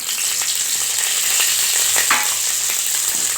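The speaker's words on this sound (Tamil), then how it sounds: "போட்டு இதையும் நல்லா வறுத்துக்கோங்க" Chana dal, dried red chillies, cumin and tamarind fry in a pan with a loud, steady sizzle and occasional soft stirring scrapes close by, no talking.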